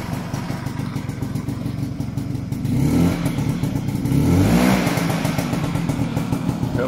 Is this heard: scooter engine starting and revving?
yes